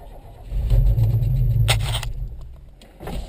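A modified 1990 Isuzu Trooper engine cold-starts: it fires into a loud, close, uneven rumble that needs help to settle into an idle, sags briefly, then surges again near the end.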